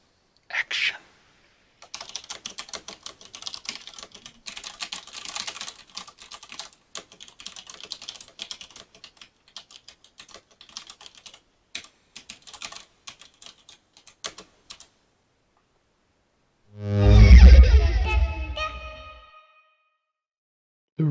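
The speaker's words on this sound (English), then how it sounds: "Keyboard test on the Cherry Reds." Rapid clatter of a Cherry Red mechanical keyboard, steady keystrokes at close range for about fifteen seconds, followed by a brief loud thump.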